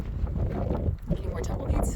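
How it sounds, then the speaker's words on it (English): Gusty wind buffets the microphone outdoors at an archery range on a windy day, producing a steady low roar with fluctuating bursts, and a voice speaks over it. "Yeah, it's a little windy."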